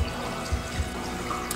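Water and sediment flow continuously through a pumped river demonstration model, heard as a steady, close wash of running water with a few soft low thumps and no talk.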